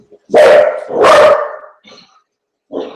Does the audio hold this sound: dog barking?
yes